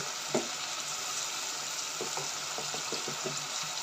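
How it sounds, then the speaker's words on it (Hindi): Chicken and masala fry in oil for a Pakistani daal mash dish, a soft continuous sizzle with scattered light clinks and stirring taps, fairly quiet and without talk. "मसाले ने और चिकन ने सारा ऑयल छोड़ दिया। मैं थोड़ा सा इसको और भून लेती हूँ"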